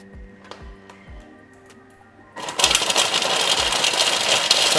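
A food processor blitzes zucchini slice ingredients, starting suddenly after a quieter stretch of low thumps and bursting into a loud, dense, steady whirring roar that runs to the end.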